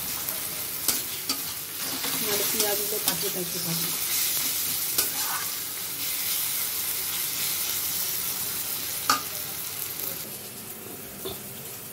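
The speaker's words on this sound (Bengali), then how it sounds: "রসুন দিয়ে এটাকে কষাচ্ছি, ভাজা ভাজা করে নিয়ে" Pomfret fish frying with garlic crackles in a steady, close sizzle with intermittent stirring clicks and scrapes, while a voice speaks briefly over it.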